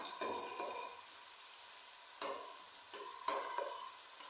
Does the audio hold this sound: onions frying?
yes